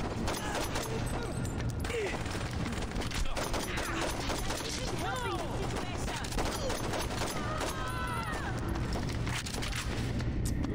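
Dense, continuous gunfire and explosions from the video game Saints Row 2, rapid bursts layered over a busy game soundscape at steady high loudness, with some speech mixed in.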